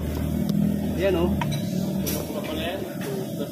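Electric power steering motor on a Toyota RAV4, faulty and noisy, giving a low mechanical hum and whir up close while someone talks over it.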